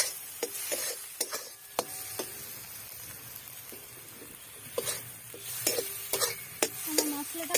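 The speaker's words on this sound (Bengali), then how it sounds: "মশলার গন্ধ না যাওয়ার অবধি আমি নাড়তে থাকবো।" Spices fry in a pan while being stirred, with sharp scraping clicks and knocks from the spoon at an uneven rhythm over a soft background sizzle.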